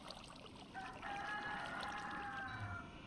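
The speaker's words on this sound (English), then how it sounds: "I think that's a chicken that's making that noise I'm hearing." A chicken in the Minecraft modpack Crazycraft clucks faintly in a quiet game scene, a low, steady sound over background noise, with no talk.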